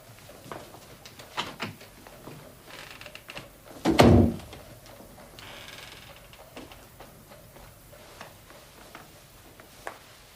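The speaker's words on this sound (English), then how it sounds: "If you would kindly leave us and close the door." A door in a Victorian-era drawing room shuts with a single loud thud and rattle, set among faint rustling and quiet room noise.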